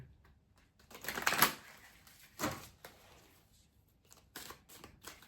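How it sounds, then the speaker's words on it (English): Tarot cards being shuffled on a table, soft quiet riffles and slaps coming in short irregular bursts with pauses between them, close and faint, no talking. "All right, let's shuffle and get a good one here."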